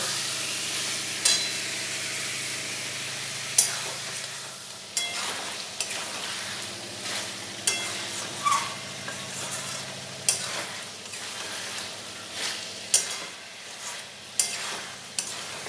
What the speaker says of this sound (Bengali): চিকেনটা খুব ভালোভাবে ভাজা হয়ে গেছে